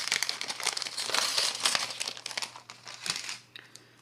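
Crinkling of a small plastic package as metal cutting dies are taken out: close, busy rustling and crackling for about three seconds, then fading, over a faint low hum.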